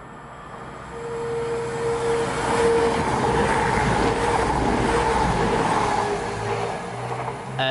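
A Class 221 Voyager diesel train heading north toward Manchester Piccadilly passes close by with a loud, steady rumble and roar that rises and holds for several seconds, plus a faint tonal whine. No one speaks during the pass.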